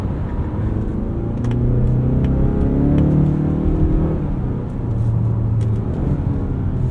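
A Mazda CX-5 engine revs under way with rev-matched downshifts, a steady close rumble rising and falling in pitch over road noise, with no talking.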